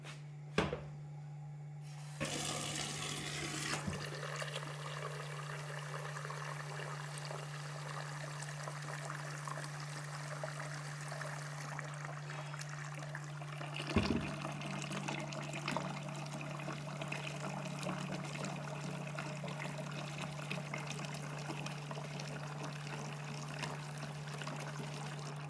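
Water poured into a pot for soup in a home kitchen, a soft steady trickle and splash running on at a moderate distance, with a low hum underneath.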